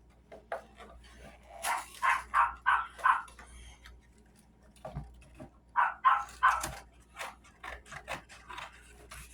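Dogs bark and yip at a distance in two scattered flurries, faint and uneven, with quiet rustling and scraping nearby between them.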